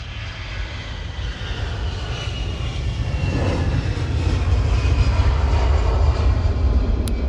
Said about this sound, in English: Big plane landing on 26 left.